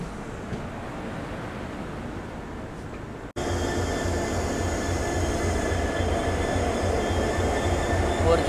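The Bengaluru–Nanded Express pulls into Parbhani Junction with a steady rumbling roar of wheels and carriages, jumping abruptly louder partway through and holding a broad, continuous drone to the end.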